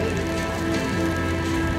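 Steady rain falling in Japan, a dense continuous hiss of drops on surfaces, loud and unbroken throughout with no voices.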